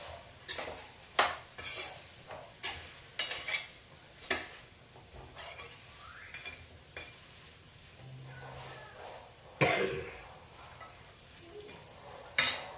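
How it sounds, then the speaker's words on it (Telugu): Sliced green chillies are stirred in hot oil for a chicken dish, with a soft sizzle underneath. A spoon scrapes and clinks against the pan in a steady rhythm of close strokes. "ఒక ఐదు పచ్చిమిర్చి సన్నగా ఇట్లా చేసుకోండి వేసుకోండి వేసేసి చక్కగా తెప్పండి ఇట్లా"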